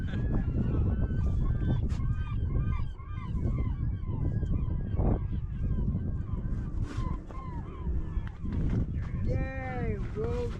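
Geese honk in repeated bursts close by on the water at a sheefish fishing spot, nearly continuous over a steady background, with people talking throughout.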